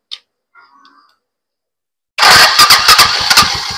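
A Euro 150 motorcycle with an electric starter, under repair, bursts into life after a quiet pause: loud, close cranking and firing with rapid rhythmic pulses as the engine catches.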